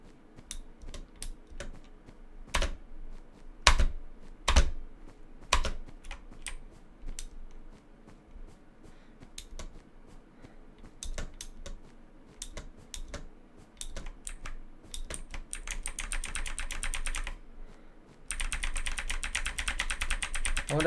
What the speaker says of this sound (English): my keyboard is loud enough to trigger the